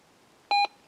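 A Minelab Gold Monster 1000 metal detector gives a single short, clean electronic beep, a brief tonal double pulse against a quiet background.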